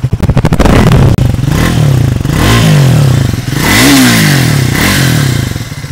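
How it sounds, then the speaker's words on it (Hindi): The exhaust of a Triumph Speed 400 motorcycle revs loudly up close, rising and falling in several sweeping throttle blips over a rough idle, with a brief sharp clatter near the start. "आपने एक साथ सुना कि कैसा एग्जॉस्ट साउंड कर रहा है"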